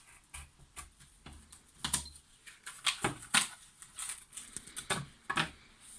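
Scissors snipping through cardboard to cut out a craft frame in short, irregular crunchy cuts, close by, with small rustles between them.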